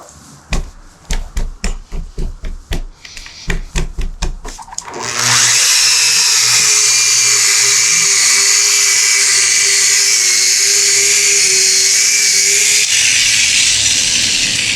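A machine polisher buffing car paint with quick detailer on a 2024 Lexus IS300. Several rapid clattering bursts come first, then a steady, loud, close high-pitched whine that runs continuously to the end.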